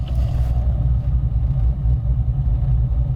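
A cammed V8 in a Nissan Skyline GT-R pulls away gently on a quad-plate clutch, its deep, lumpy idle rumbling steadily and loud throughout with no throttle blip.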